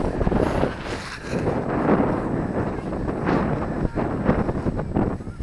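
Strong wind gusts buffet the microphone at the Danish seaside near dunes and a sunken lighthouse, a loud steady roar with rising and falling blasts throughout.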